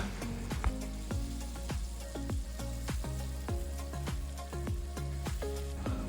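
Fish with seasonings frying in a pan while being stirred, a steady sizzle with repeated scraping clicks of the utensil, fairly quiet and with no voices.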